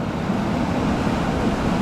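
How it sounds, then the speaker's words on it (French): Rising wind outdoors while prospecting for gold makes a steady, rough rumble of gusts against the microphone, continuous and fairly loud with no voices. "le vent il se lève"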